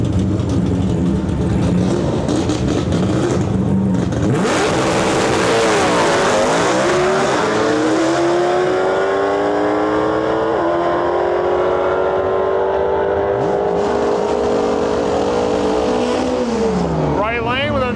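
At a drag racing event, a Fox body car and a new edge car launch down the track, engines revving and screaming through rising gear pulls with tire squeal, while an announcer talks over the noise.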